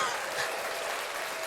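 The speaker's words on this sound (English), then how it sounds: "A round of applause" Applause from a sound effect button, a short burst of crowd clapping that fills the whole moment at steady volume with no voices over it.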